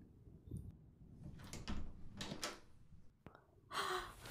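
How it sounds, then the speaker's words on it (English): A door opens in a quiet indoor setting during a soft-spoken roleplay, with a series of faint knocks, creaks and sliding scrapes ending in a brief burst of rustling. "Hey, can you open the door?"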